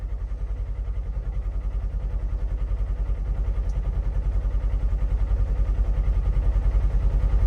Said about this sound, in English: All right, so we're in the Xpedition. I'm going to show you at idle.